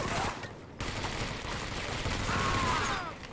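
Gunfire from the World War II shooter Medal of Honor: Vanguard, a short burst of rapid shots up close, then a brief pause before another volley.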